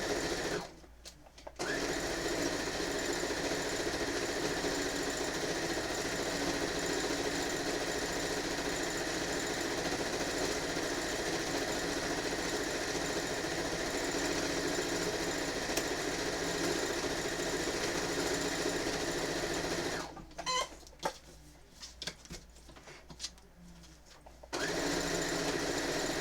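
A sewing machine stitches fabric binding with the presser foot down, a steady close motor whir with rapid needle chatter running almost continuously, starting and stopping briefly near the beginning and again near the end.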